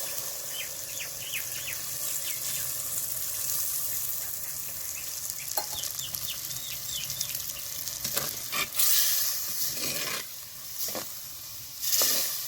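Water poured into a pan of sizzling chicken pepper fry, a steady bright hiss of frying with a few louder sputtering bursts toward the end, no talking.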